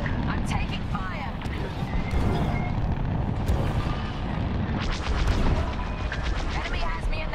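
Blaster fire from incoming Imperial fighters in a space combat video game, sustained bursts and booms layered with engine roar and in-game radio voices throughout.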